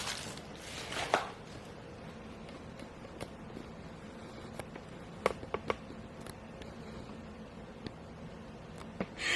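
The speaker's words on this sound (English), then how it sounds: "Cut all the Yu Choy like these, about 2 inches long, and set aside for cooking." A knife cuts yu choy into 2-inch pieces on a board, sparse sharp knocks spaced irregularly over a quiet background, close but fairly soft, with no talking.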